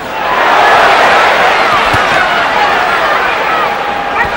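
Dense roar of a boxing crowd in Boardwalk Hall, Atlantic City, during the Arturo Gatti versus Carlos Baldomir fight, steady and loud throughout with a couple of sharp thuds or slaps standing out briefly.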